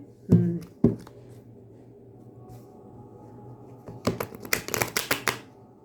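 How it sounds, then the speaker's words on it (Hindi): Playing cards are shuffled close by: two sharp riffles at the start, a quiet pause, then a quick run of rapid crisp flicks and snaps near the end, with no talking. "अच्छे से नहीं हो रहे हैं शफल कार्ड्स"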